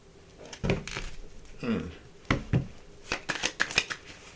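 Tarot cards being shuffled by hand, several close bursts of riffling and flicking paper with soft taps between them, crisp and near with no speech.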